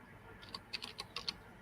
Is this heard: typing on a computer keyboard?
yes